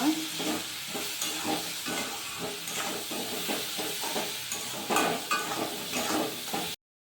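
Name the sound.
egg and potato curry stirred with spices in pan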